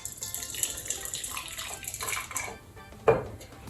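Hot boiling water poured into a metal can for a craft, a continuous splashing pour with a brief metallic knock near the end, no speech.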